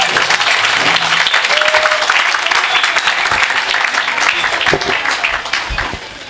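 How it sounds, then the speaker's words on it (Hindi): Loud, sustained applause fills a seminar hall during a business meeting, dense clapping from a large audience continuing steadily before tapering slightly at the end. "जोरदार क्लैपिंग।"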